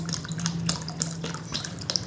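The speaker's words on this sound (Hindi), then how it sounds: "मैंने सारी पानी डाल दिया इसके अंदर" Water pours steadily into a bottle while making sharbat, a close, continuous splashing trickle with small gurgles and drips throughout.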